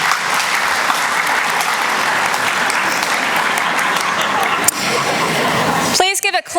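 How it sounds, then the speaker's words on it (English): A large audience of teachers at a school district convocation bursts into sustained applause that fills the hall, loud and steady for about six seconds before a voice starts talking over the fading claps. "Please clap if you are a new teacher to our district."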